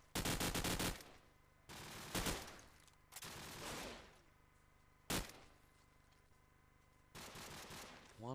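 Bursts of automatic gunfire from a Call of Duty 4 competitive match rattle out in several loud, dense volleys separated by short pauses, with one sharp single shot in between.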